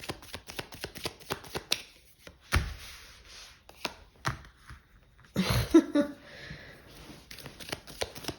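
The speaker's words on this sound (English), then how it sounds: "Your cards are flying out, by the way." Tarot cards being shuffled and riffled by hand, with irregular close, crisp flicks and slaps, a few louder bursts, and faint talk in between.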